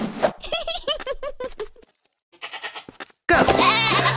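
A cartoonish goat in a children's alphabet game bleats in a quick series of wavering, stuttering calls, then pauses before a louder, broader burst of sound closes out.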